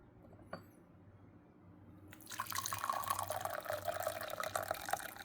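Hot water runs steadily into a vessel for another steep of Baimudan white tea, a single faint drip preceding a continuous close pour that starts abruptly and holds at moderate level.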